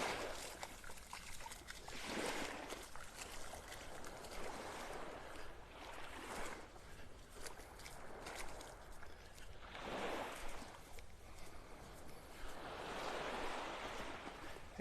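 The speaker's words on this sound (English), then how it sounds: "Some little waves lapping up on the shore" Small, calm waves lapping on a beach shore in North Naples, Florida, on an early morning, with soft washes of surf that swell and recede every few seconds over steady faint wind noise.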